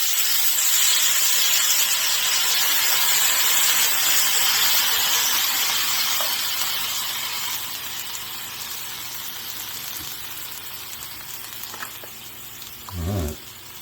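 Onions on a hot griddle for White Castle-style sliders give off a loud, continuous steamy hiss that eases partway through, ending with a brief low thump.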